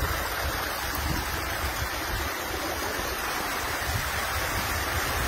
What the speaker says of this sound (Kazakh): Бұл кәдімгі бұлақ.